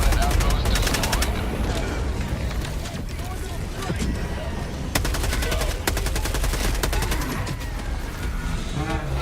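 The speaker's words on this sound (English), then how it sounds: "Requesting orbital strike." Rapid machine-gun bursts and heavy gunfire during an orbital strike in Helldivers 2, repeated rattling volleys with loud impacts over a dense battle din, with speech mixed in.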